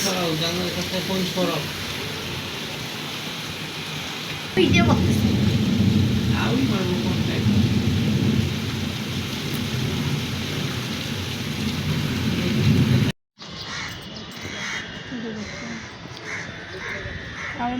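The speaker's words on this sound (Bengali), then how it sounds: "এত মেঘ গজরাচ্ছে মেঘের যেমন গজরন তেমনই বাতাসটাও বেগাচ্ছে" A thunderstorm with rain and strong wind roars in a thick, continuous wash, and crows caw near the start. A heavy low surge swells midway, and the sound cuts out abruptly before returning quieter.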